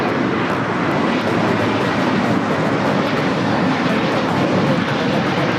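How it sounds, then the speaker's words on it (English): A Qantas airliner arriving at Los Angeles airport from Sydney, a dense, steady jet-engine roar holding loud and unbroken for several seconds. "Qantas Flight 11 coming in from Sydney."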